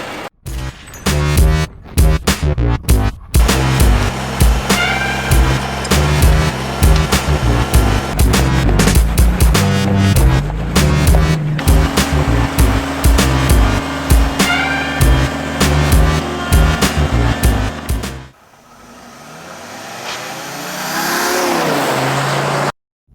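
A high-mileage VW Touareg V10 TDI diesel with 228,000 miles revs and accelerates hard from 0 to 60 mph, loud engine roar rising through gears with sharp shift breaks, then dropping to a quieter cruise near the end.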